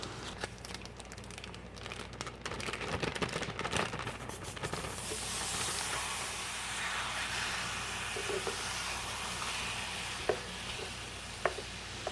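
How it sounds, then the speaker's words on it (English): Ground beef fries in a preheated skillet, a steady broadband sizzle running throughout with rustling, scraping stir noises early on and a few sharp clicks later, close and moderately loud. "so now I'm going to add my ground beef. And I'm going to crumble that up and fry it until it's completely done."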